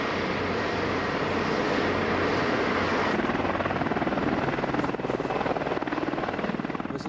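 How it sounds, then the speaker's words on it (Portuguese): A U.S. Army Apache AH-64A attack helicopter in flight, its rotor producing a steady rapid chopping thump with turbine whine, fairly loud and continuous throughout with no talking. "Esse é o helicóptero Apache AH-64A do Exército Norte-Americano,"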